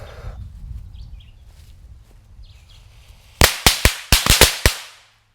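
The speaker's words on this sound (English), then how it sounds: "Alright, we got some thunder bombs." Old thunder bomb firecrackers go off in a rapid string of about eight sharp, loud bangs, spaced unevenly over a couple of seconds after a quiet outdoor lull.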